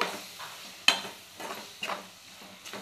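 A spoon stirs tomato masala for a mutton curry in a cooking pan over low heat, giving a few soft scraping strokes spaced through a gentle background sizzle.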